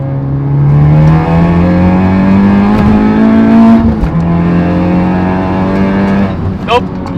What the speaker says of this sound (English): Alright, this is third gear pull.